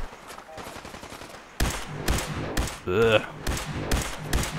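Machine gun fire in Fallout 4, loud close bursts of rapid shots repeating across the clip, with a man grunting and a brief tonal game sound in the middle.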